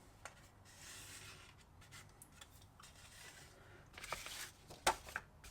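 Excess dollhouse wallpaper is folded over by hand, quiet close rubbing and papery creasing with a few small crinkles and taps, louder toward the end.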